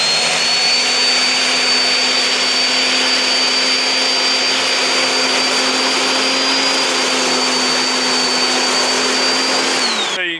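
A Greenworks or Rock&Rocker electric dethatcher-scarifier runs steadily across a lawn, a loud continuous motor whine with a rough churning roar, close by and unbroken until it winds down at the very end, with no talking.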